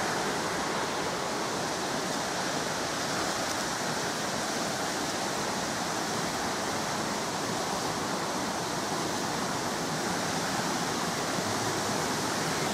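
At the top of a waterfall in Shropshire, swollen after heavy rain, the water roars close and loud. The broad hiss runs without pause and nothing else breaks through it.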